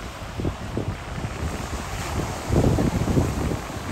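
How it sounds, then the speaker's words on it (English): Strong gusting wind by a lake buffets the microphone, with a louder rush partway through and a low roar like waves on open water behind it. "It's windy down here today."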